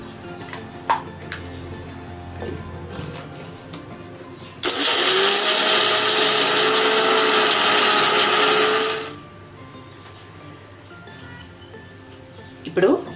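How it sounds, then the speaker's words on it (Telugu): Mixer grinder blending chutney with salt for Mysore bonda: after quiet clatter, a loud steady whirring roar starts abruptly and runs about four seconds before cutting off, with faint sounds and a voice around it. "ఇప్పుడు మనము గ్రైండ్ చేసుకుందాము"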